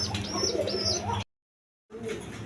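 Colored pigeons in a loft with their chicks coo in soft, repeated throaty phrases close by, with some chirps; the sound cuts out briefly and then resumes.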